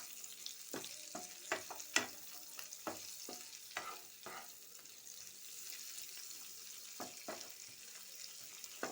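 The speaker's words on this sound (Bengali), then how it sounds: "দিয়ে পেঁয়াজগুলো দিলাম, একটু নাড়াচাড়া করব এবার" Chopped onions fry quietly in a pan at home while being stirred, a soft sizzle under irregular scraping and clinking taps of the spoon against the pan, with no one talking.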